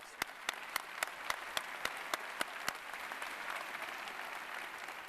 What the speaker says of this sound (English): At this time, we give them applause.